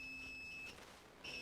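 A multimeter on continuity test gives a thin, high electronic beep that holds, drops out briefly, then sounds again, quiet and close with no one talking.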